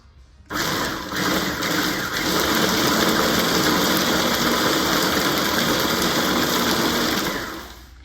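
A food processor pulses nuts for peanut butter bliss balls, switching on abruptly into a loud, whirring grind that holds steady for about seven seconds and then winds down.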